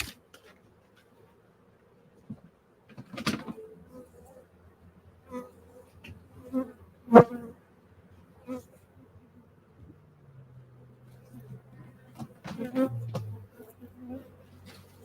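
Agitated honey bees buzzing around an opened beehive during a honey harvest after a frame knocks the hive, a faint wavering drone under intermittent bursts of someone talking nearby.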